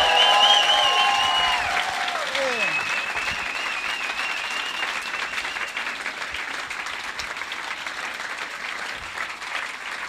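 Audience at a Stuttgart stand-up comedy show clapping steadily for about ten seconds, a dense, even patter of applause, with a voice speaking over it at the start before the clapping carries on alone.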